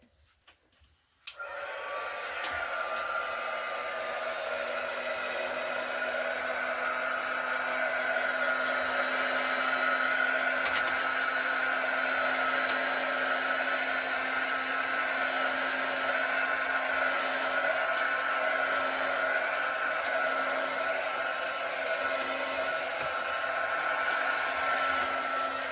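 Heat gun blowing on poured acrylic paint: it clicks on after a second and then gives a steady, close whirring blast with a constant tonal hum that runs unbroken to the end.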